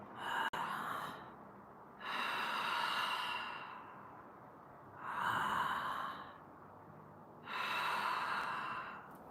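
Tantra breathing technique demonstrated with four slow, deep breaths, each a long, close, airy rush of air separated by short quiet pauses, with no talking over them.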